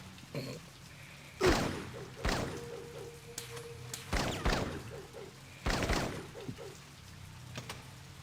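Futuristic laser-style gunshots in a Blade Runner video game: a handful of sharp, separated blasts spaced a second or two apart over a quiet background.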